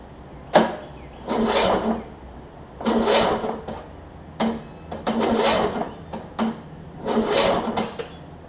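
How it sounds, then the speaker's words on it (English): A Craftsman riding mower with a Briggs & Stratton Intek engine and a newly replaced compression release cranks over without starting, in about six loud, close bursts of whirring starter churn separated by short pauses. "Let me see if I can get this thing to crank over for us."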